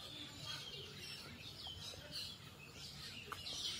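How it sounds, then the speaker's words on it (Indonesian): Black birds chirp in the leafy schoolyard of a high school in Samarinda. The calls are faint, scattered and high-pitched, set against a soft outdoor background hiss. "Burungnya berkicau-kicau."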